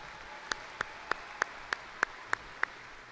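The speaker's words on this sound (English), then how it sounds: "How about a big round of applause for our choir and the NJROTC Color Guard?" Eight sharp, evenly spaced claps ring out at a steady beat, faint and fairly distant, after a choir and NJROTC color guard performance at an arena event.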